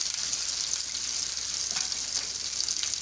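Cashews and a green chili lightly frying in a kadai for kadai paneer, a bright, even hiss of sizzling oil with a couple of faint stirring scrapes.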